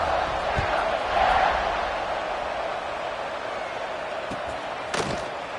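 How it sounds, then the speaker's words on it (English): A football stadium crowd at a game against Tennessee keeps up a steady, dense roar after a score, with a few sharp thuds cutting through near the end. "this crowd is buzzing after that last score"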